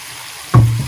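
Ground spices (turmeric, garam masala, cumin, coriander powder and salt) hit a hot pan with tomatoes, a sudden close sizzle bursting in halfway through and holding steady after a quiet start.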